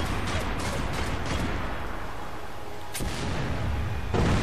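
A single gunshot rings out in the action game Max Payne 3, a sharp crack standing out from a noisy in-game background of rumbling gunfire and ambience.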